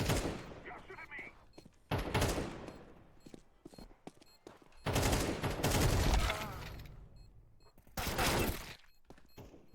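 Bursts of gunfire in a shooting video game, several loud volleys separated by short gaps, with a voice speaking in between.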